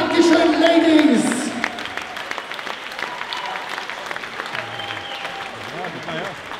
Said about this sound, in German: ich denke, an der Stelle haben sich auch beide Damen mal wieder euren Applaus hier verdient.